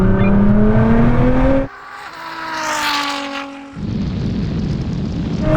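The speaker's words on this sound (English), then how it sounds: "we're going to do another rolling race from 50 miles an hour" A Ferrari SF90 and a 1000 hp Nissan GT-R accelerate hard in a rolling race from 50 mph, loud engine roar climbing in pitch, dropping briefly to a quieter rising whine mid-run before the heavy roar returns.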